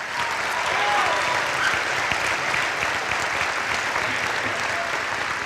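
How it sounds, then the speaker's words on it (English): A school auditorium crowd at a 2017 Hudson High School May band concert applauds band students with dense, sustained clapping that fills the room evenly and holds steady throughout. "Let's give those folks a round of applause."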